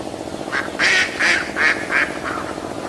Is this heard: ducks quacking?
yes